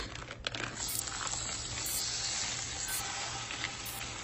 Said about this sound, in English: we're gonna brown up our sausage